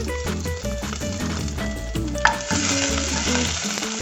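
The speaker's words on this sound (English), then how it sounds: "Saute your ginger" Ginger and garlic sautéing in a little oil for congee, a dense, continuous sizzle close up, with steady background music throughout and one brief clink partway through.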